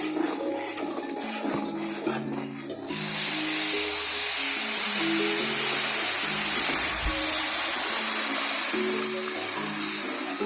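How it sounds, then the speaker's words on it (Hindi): Water is poured into dark browned Chakwal halwa in a hot pan, setting off a sudden loud, sustained sizzle and hiss that follows a stretch of quieter stirring and cooking sounds, with music underneath. "और अब साथ ही हम इसमें पानी ऐड कर देंगे।"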